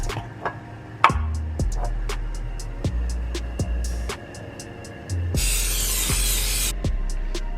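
Cooking spray hisses into a pan heating on medium-high for basil turkey meatballs, one steady spray burst of about a second and a half amid scattered sharp ticks and clatter from the stove.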